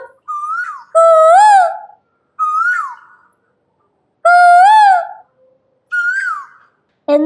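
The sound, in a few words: koels calling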